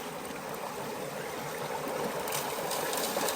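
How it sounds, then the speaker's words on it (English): River water running through a Kreeger sluice box while panning for gold in Connecticut, a steady, close rushing and gurgling flow that continues without break. "Just plopping it down and letting it run through it."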